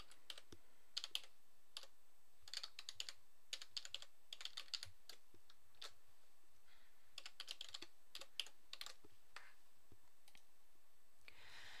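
Quiet typing on a computer keyboard while creating a Google account, with irregular bursts of close, crisp key clicks separated by short pauses.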